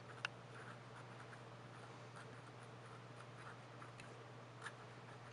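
A pen nib scratches faintly and steadily across Rhodia lined paper in a quiet room, with a few small ticks along the way and no voices.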